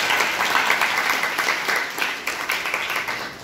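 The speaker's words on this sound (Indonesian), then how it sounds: "Tepuk tangan buat Cecil." Audience at a school orientation event in Jakarta clapping, a steady patter of many hands that fades slightly toward the end, with no talk over it.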